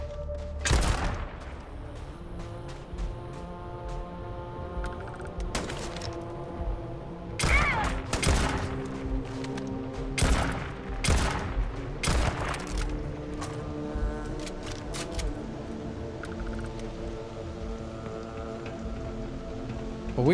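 Gunfire from a new gun in the video game Starfield: a string of sharp, loud shots in irregular bursts over a steady rumbling backdrop, some spaced seconds apart and others clustered, without any talking.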